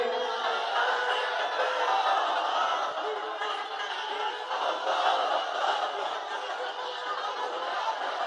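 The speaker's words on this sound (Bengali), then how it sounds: "তাকবীর দেন তো একজন আওয়াজ করে" A large crowd at an outdoor Islamic sermon gathering in Gazipur shouts the takbir together, a loud, sustained wave of many voices that swells and dips slightly over several seconds.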